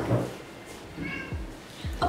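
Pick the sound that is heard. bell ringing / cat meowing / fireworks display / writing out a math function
cat meowing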